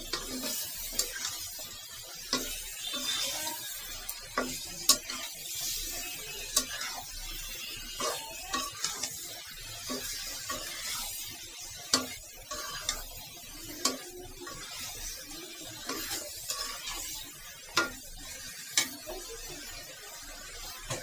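Mixed vegetables with turmeric, chili powder, salt and meat stirred in a pan: a faint, steady sizzle runs throughout, broken by frequent light clicks and scrapes of a spoon against the pan at irregular intervals.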